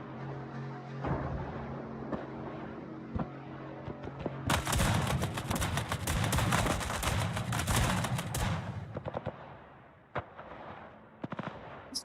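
Naval guns firing in World of Warships, with heavy booming salvos and rapid bursts over a steady engine drone, loudest in a dense barrage through the middle.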